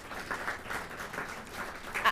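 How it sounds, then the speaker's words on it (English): Audience applause at an entrepreneurship summit, a fairly faint, rippling patter of clapping hands that swells slightly toward the end. "Can't we applaud her?"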